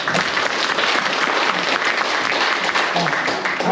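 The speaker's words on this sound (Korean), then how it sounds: "박수를 보여주시기 바랍니다" An audience at a political seminar applauding, a dense, steady wash of many hands clapping close by for a few seconds, with no talk over it.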